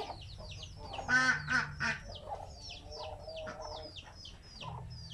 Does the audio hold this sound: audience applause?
no